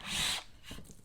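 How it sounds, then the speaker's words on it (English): A power drill fitted with a 3/8 inch bit whirs into material in one short, loud burst, then winds down into faint scraping. "So I'm going to use a 3/8 inch bit, and I'm just going to come in"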